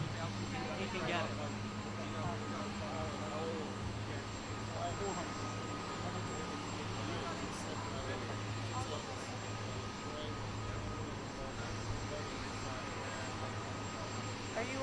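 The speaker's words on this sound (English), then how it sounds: "Did everyone leave and miss the helicopter?" A helicopter at a live outdoor press event at Chequers in the UK, a steady engine and rotor drone running throughout under scattered background voices and crowd chatter.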